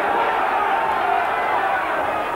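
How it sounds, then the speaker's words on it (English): Crowd at a professional boxing match, a steady roar of cheering and noise from the arena audience, with a commentator's voice faintly under it. "And the crowd are enjoying this one."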